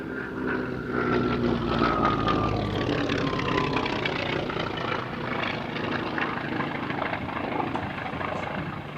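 Vintage propeller aeroplane at the Duxford Flying Legends air show, its engine drone loud and steady throughout as it passes, with a broad roar that swells slightly early and stays sustained, no talk.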